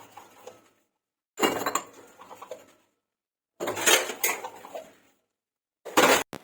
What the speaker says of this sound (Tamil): அதை வாஷ் பண்ணி கவுத்திடலாம் அப்படின்னு சொல்லிட்டு அதை தான் விளக்கிட்டு இருக்கேன்